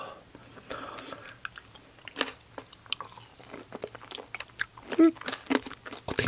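Crunchy bites and wet chewing of pineapple tanghulu, candied fruit with a hard sugar coating, heard up close in a series of sharp crackling bites followed by softer mastication, with faint murmured talk in places.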